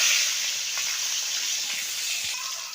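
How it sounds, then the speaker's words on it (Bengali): Hilsa fish head, coated in salt and turmeric, frying in hot oil: a steady, close, fairly loud sizzle with a bright hiss running the whole time, and no talk over it. "এবার মাছটা দিয়ে ভালো করে ভেজে নেব"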